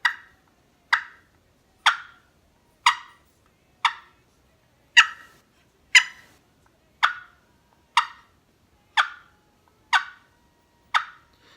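A dozen sharp, evenly spaced clucks from a turkey box call, about one per second, each a crisp scratchy pop with a quick decay, no voices.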